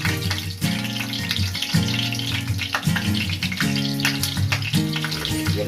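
Water pops and sputters in hot oil as okoy of banana blossom and shrimp fries, a steady crackling sizzle with sharper bursts, close and continuous.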